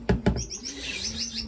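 Finches chirping in an indoor bird room: two sharp close calls at the start, then a softer, continuous twittering of many small birds in the background.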